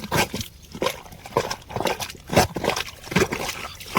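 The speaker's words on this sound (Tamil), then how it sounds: "எவ்வளோ தண்ணி ஓடுதுடா அப்பா அது உள்ள இருந்து" Water gushes out of a crab hole in a village field, a close, splashing, gurgling flow in uneven spurts, heard alone.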